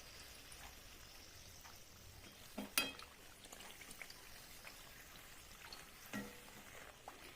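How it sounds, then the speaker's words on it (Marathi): Pumpkin vadas deep-fry in hot oil with a faint, steady crackle and bubbling, broken by a couple of brief sharper pops and spatters; no one speaks. "अजून एखादं मिनिटभर आपण हे तळून घेऊयात"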